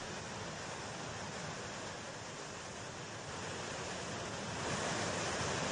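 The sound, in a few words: swollen Ganga river rushing in flood at Rishikesh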